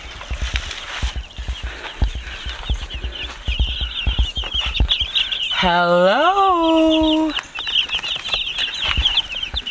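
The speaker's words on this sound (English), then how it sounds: "Meat birds." Flock of Cornish cross meat chickens clucking and chattering continuously nearby, with a brief loud harmonic squawk near the middle; a person speaks briefly over the birds.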